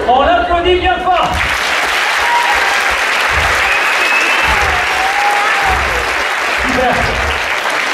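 A hypnosis show audience bursts into loud, sustained applause after someone briefly speaks, the dense clapping filling the room for several seconds with a few voices calling out over it.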